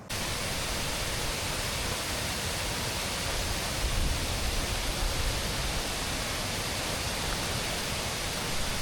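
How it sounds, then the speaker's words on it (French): Waterfall on the Paksé loop in Laos, a constant, loud broadband roar of falling water with no variation or pauses, heard alone without any voices. "on va aller voir 2 cascades qui sont sur le chemin"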